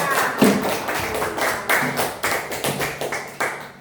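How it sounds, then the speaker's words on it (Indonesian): A class of students claps hands for a group of classmates, giving a few short bursts of uneven claps that rise and fade in a classroom, with a faint voice underneath. "Tepuk tangan dulu untuk kelompok 4."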